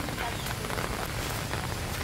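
Typhoon Aghon rain falls hard outdoors, a thick, steady wash of pattering drops filling the whole moment without letup.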